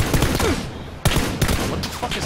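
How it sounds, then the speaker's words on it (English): Gunfire in the PUBG shooter game, including SKS rifle shots. Dense bursts of close, loud shots crackle throughout, with a short pause near the middle before another volley. A voice can be heard faintly underneath. "Oh, that's someone else shooting at me."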